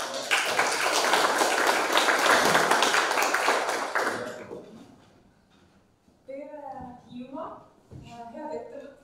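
An audience at a regional development seminar gives a speaker a welcoming round of applause, dense clapping for about four seconds that tapers off, then a voice begins speaking.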